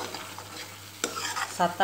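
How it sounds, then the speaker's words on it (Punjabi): Masala for arbi curry is stir-fried in a kadai, a close sizzle broken by scraping spoon strokes against the metal that come louder and quicker toward the end, with no voices. "ਮਸਾਲਾ ਚੰਗੀ ਤਰ੍ਹਾਂ ਭੁੰਨ ਲਾਂਗੇ"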